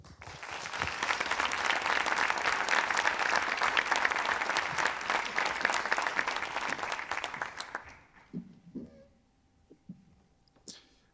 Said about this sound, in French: Merci d'applaudir très fort Mathieu.